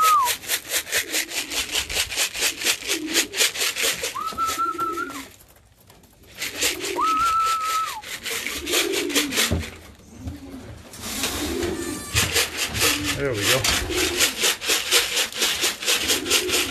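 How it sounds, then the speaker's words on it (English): Racing pigeons returning to their loft coo in short repeated bursts nearby, with wingbeats, a rhythmic rubbing scrape, and brief high whistles rising over the steady bird chatter. "we've got more birds in the sky"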